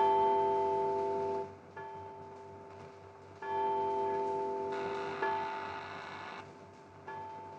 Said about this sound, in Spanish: ¿Oíste el timbre?